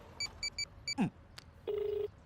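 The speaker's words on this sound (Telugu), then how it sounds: "ఒక నిమిషం ఉండి ఫోన్ చేస్తా" A quick series of short dialing beeps, then a faint swooping tone and a longer steady beep, quiet and close.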